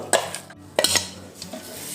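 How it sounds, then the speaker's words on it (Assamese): A spoon scrapes and stirs ground moong dal filling in a wok over low heat, with two or three distinct scraping strokes close by against a faint background and no talking. "এইখিনিও ভালকৈ লৰাই দিছো"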